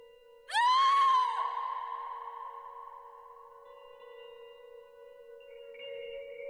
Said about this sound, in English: a horrifying, inhuman scream echoed through the air